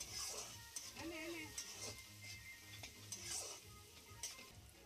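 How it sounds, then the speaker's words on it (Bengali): Onions frying in a pan with salt, turmeric and chilli powder, a soft continuous sizzle with scraping and clinking stirring strokes, faint and close, with a voice talking briefly over it. "তারপর এটাকে ভালো করে আমি ভেজে নিচ্ছি"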